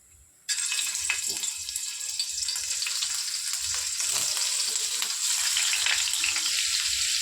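Paneer frying in hot oil in a pan for palak paneer gravy, as a loud, continuous, close sizzle that bursts in suddenly and holds steady with faint crackles, no voices.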